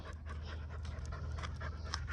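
A young American Pit Bull Terrier puppy pants in quick, steady breaths outdoors in a yard, close and continuous with no talking.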